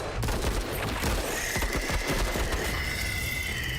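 Gunfire in the video game Menace: a dense, continuous rattle of overlapping shots and bursts, loud and close, with a steady whine running under the later part.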